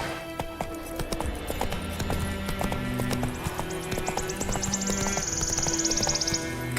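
The horse Roach clip-clops at a gallop across ground in The Witcher 3, a steady rapid hoof rhythm under game music and ambience, with a rising whistling tone near the end.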